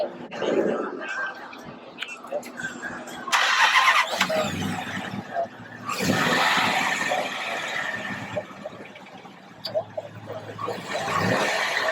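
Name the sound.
Mopar car engine running as car pulls out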